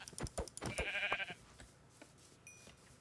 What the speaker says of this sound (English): There's a bunch of sheep.